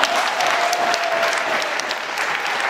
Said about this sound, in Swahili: Wapigie makofi na wao